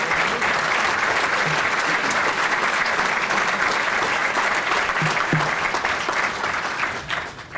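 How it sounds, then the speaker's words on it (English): Sustained applause from an audience at a state government talk, dense and steady clapping throughout that thins slightly at the very end. "A lot of applause."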